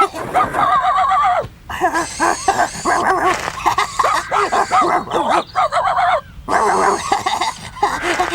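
A cartoon dog in a Bob the Builder episode barks and yips in repeated bright, excited bursts, loud and close, with short gaps between the volleys and no talk over it.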